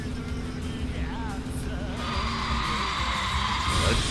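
A taxi drifts through a corner in Yakuza 5. Tires squeal and whine over a steady engine drone, and the screech grows louder and brighter toward the end of the slide.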